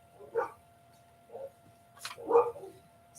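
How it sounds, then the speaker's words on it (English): Dogs bark in a few short, separate woofs spread across a few seconds, fairly faint and somewhat distant in a quiet indoor setting, with no talk. "Oh, the dogs are barking at something."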